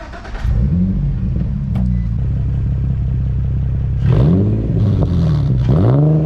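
An Infiniti G35 engine, just fitted with a new PCV valve, cranks and catches, settles into a steady idle, then revs sharply several times in a row, loud and close with no talking.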